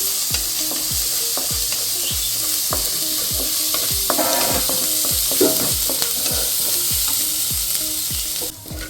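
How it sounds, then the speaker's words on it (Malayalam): Crushed ginger, garlic and green chilli sizzle in hot spiced oil for a milky mushroom roast while a spoon scrapes the pan in a regular rhythm of about one stroke per half second, loud and close, the sizzle cutting off at the end. "ഇഞ്ചി വെളുത്തുള്ളി പച്ചമുളക് ഇത് ഒന്ന് ചതച്ച് വെച്ചതാണ് കേട്ടോ അതുകൂടി ആഡ് ചെയ്യുന്നുണ്ട് ഇനി നന്നായിട്ടൊന്ന് ഇളക്കി കൊടുക്കാം"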